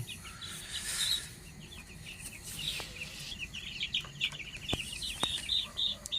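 Young roosters clucking and chirping in a netted coop, a scatter of soft, fairly close calls with a few sharp knocks, fairly quiet overall.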